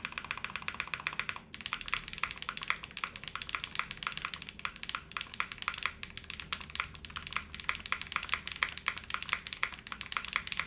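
Continuous rapid typing on a Zoom65 V3 mechanical keyboard with an O-ring gasket mount, soft muted key clacks in a quick, uneven rhythm, close up with no talking.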